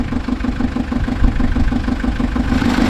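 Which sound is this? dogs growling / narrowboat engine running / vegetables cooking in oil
narrowboat engine running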